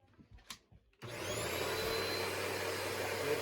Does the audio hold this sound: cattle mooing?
no